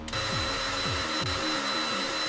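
A drill sharpens pencils in the Pencil Sharpening Simulator video game, a steady whirring grind with repeating low motor sweeps running continuously and loud, with no talk over it.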